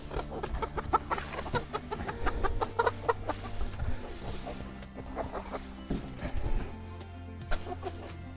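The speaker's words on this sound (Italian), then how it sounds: "Queste sono le galline che sono andato appena a comprare" Several young Livornese hens cluck and chatter close by in a steady, overlapping stream of short calls, with no talking over them.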